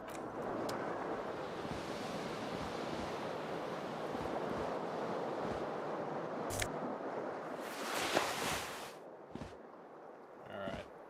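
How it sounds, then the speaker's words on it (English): Cold wind and ocean surf in the video game Disco Elysium, a steady broad wash of waves and gusts with a few sharp bursts near the end. "Cold wind blows in."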